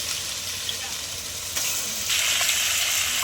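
Chicken pieces going into a pan of spiced masala frying in oil with sour yogurt, a steady broadband sizzle that swells louder partway through as the meat hits the hot mixture.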